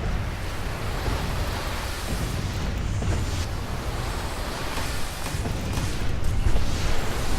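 Earth-power area attacks in DC Universe Online, including Rumble Crush and Striking Stones, roar as a dense, continuous rumbling wash of crumbling rock and debris, steady and loud throughout with a slight swell near the end.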